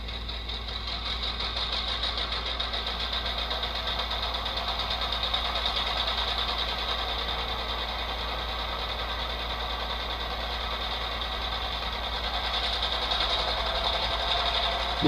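HO scale model locomotive engine sound played through a small iPhone 5C speaker, a steady droning idle with a thin buzzy tone, constant and unbroken throughout.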